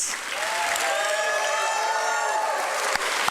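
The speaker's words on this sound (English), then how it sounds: "the good old-fashioned way with a thunderous round of applause, Molbio family" A thunderous round of applause mixed with cheering and whoops from the audience at a stock exchange listing ceremony, dense and sustained for the whole stretch, with no talk over it.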